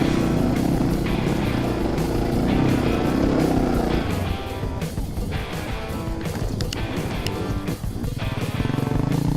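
A KTM enduro motorcycle rides off-road on a trail, its engine a loud, continuous, close drone mixed with wind rush and shifting revs throughout.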